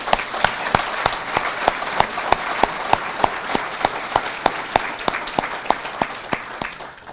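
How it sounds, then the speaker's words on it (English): Steady applause from a seated audience honoring veterans at a court-hosted veterans history event, evenly paced claps filling the room without pause and without talk over it. "Let's give them a warm round of applause."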